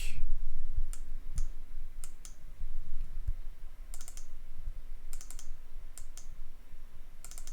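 A computer mouse clicks repeatedly while editing a model in Unity ProBuilder, with crisp clicks arriving as singles and quick doubles and triples over a low background rumble.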